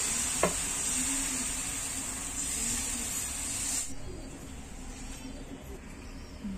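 Whole wheat flour dosa cooking on an oiled hot iron griddle over low flame, a steady soft sizzle and hiss that drops in brightness partway through, faint and close, no talk.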